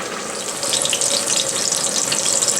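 Pan-fried francese-style chicken browns in a skillet, putting out a loud, steady, hissing sizzle that thickens partway through and then holds without a break.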